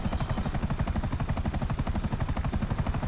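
Helicopter in the video game GTA 5, a steady rhythmic rotor chop with a continuous engine whine, loud and close throughout with no talking.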